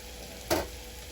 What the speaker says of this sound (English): we're just going to stir this around, keep it moving, just till we cook that raw flavor out of that flour